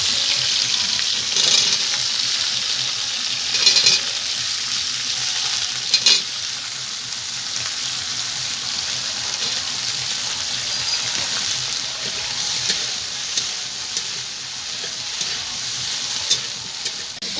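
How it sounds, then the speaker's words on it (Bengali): Cauliflower pieces fry in a hot pan with a steady, bright sizzle that runs throughout, broken by a few stirring scrapes, close and fairly loud with no talking. "এবারে কপিগুলোকেও আমি একই রকমভাবে ভেজে নেব।"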